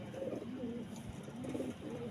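Racing pigeons returning from a 109 km training flight from Guimba coo steadily at the loft, a soft, continuous rolling murmur of several birds with no one speaking.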